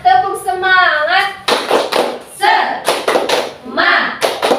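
A group claps in quick rhythmic patterns between bursts of voices chanting and talking, the claps sharp and close.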